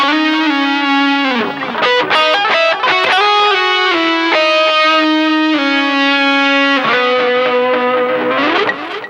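Electric guitar through a distortion effect plays a sustained melody line, loud and continuous with held bending notes and no voices.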